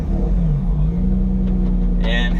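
Lotus Evora GTS race car engine cranking and catching into a loud, close idle rumble with a rising hum, a voice briefly audible near the end.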